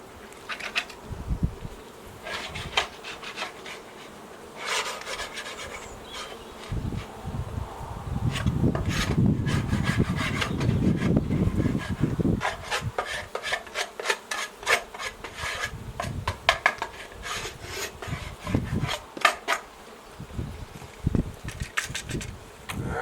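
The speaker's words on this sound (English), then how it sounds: "take this floor away and scrape it out" A hive tool scrapes across a wooden beehive floor in repeated rasping strokes, loud and close, during a spring hive inspection, with bees buzzing around throughout.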